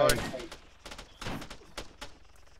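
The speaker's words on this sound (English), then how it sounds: "There's a lot of gunfire going up on our nose." Several sharp shots crack in quick irregular bursts, some near and some farther off, like video game gunfire exchanges.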